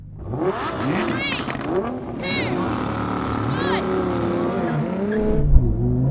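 An Audi R8 and a Nissan GT-R launch side by side on a drag strip, engines rising in loud, repeated revving sweeps with some tire noise, while people talk over the run.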